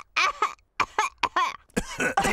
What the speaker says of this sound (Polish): wszyscy dorośli zarazili się kaszlem Pedra